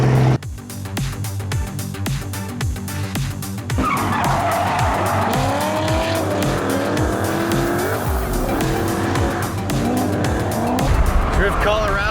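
Car drifting at a Drift Colorado event, tires squealing in long wavering screeches over a loud, close engine roar, with a voice briefly audible beneath.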